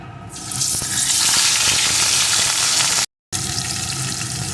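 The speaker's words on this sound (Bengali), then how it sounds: "এখন এর ভিতরে আমি লবণ হলুদ মাখানো মাছগুলোকে দিয়ে প্রথমে ভেজে নেব" Fish coated in salt and turmeric frying in hot mustard oil in a wok, a loud steady sizzle with crackling pops that starts just after the fish goes in and continues throughout, broken by one brief gap.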